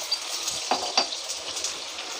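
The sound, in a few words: potatoes frying in a pan for egg soya khichdi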